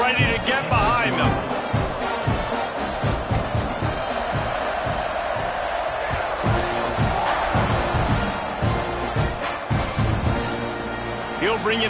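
A Notre Dame football stadium crowd roars steadily at kickoff, a dense, loud wash of cheering and whooping with a few sharper shouts, running the whole time beneath an announcer's voice.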